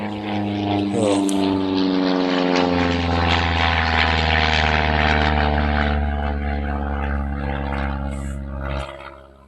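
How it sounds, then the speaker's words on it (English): A propeller airplane drones loudly overhead, its steady engine hum swelling and then fading as it passes, with a brief exclamation from a voice near the start. "Dang planes."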